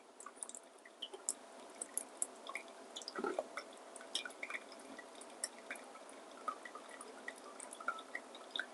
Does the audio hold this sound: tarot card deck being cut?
no